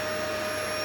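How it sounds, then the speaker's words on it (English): A bee vacuum runs steadily, sucking honeybees out of a hive built inside a bedroom wall, its constant motor whine loud and close with no pauses. "I'll finish bee vacuuming the bees"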